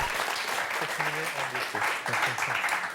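Studio audience applause on the French TV word game show Motus, a steady dense clapping wash under a host's voice and some background music-like tones, fairly loud and continuous.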